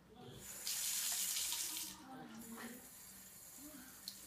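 A tap runs into a sink during handwashing, a bright rushing stream for about a second, then quieter trickling with faint voices in the background.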